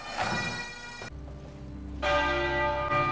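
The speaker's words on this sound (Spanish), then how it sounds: "que ha hecho sonar 96 campanadas, una por cada año de vida de la reina" Westminster Abbey's church bells toll at Queen Elizabeth II's funeral, loud ringing strikes with long resonant hums that overlap and decay between each stroke.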